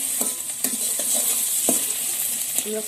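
Onion sizzles in a little oil in a pan while a spatula stirs it, giving a steady frying hiss broken by several distinct scraping and clinking strokes close by.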